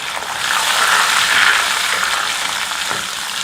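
Raw tomato puree, ground in a mixer, sizzling in hot oil in a pan for a cauliflower and potato curry; a loud, steady close-up fry that swells and eases slightly, with no talk.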